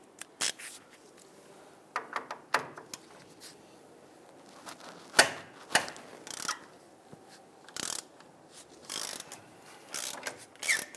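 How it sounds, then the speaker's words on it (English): Ratchet with a 22mm socket working loose a nut on the front lower control arm of a 2000-2006 Toyota Tundra, giving scattered bursts of quick metallic clicking with short pauses, close and alone. "Using a 22mm socket, let's go ahead and loosen this nut here."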